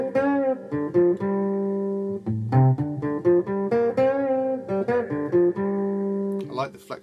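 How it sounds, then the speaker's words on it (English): Guitar through an amp simulator pedal with the gain turned down and reverb up, producing a cleaner, ringing tone; sustained picked notes and short phrases played close and fairly loud, alone. "we can take the gain down and have it more of a reverb sound"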